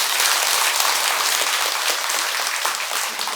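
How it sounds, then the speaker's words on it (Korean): An audience at a Buddhist temple service at Beomeosa applauds, a dense, loud, steady wash of many hands clapping together that fills the whole moment without pause. "박수 부탁드립니다"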